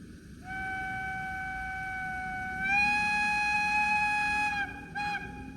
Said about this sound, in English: F3 is the long whistle.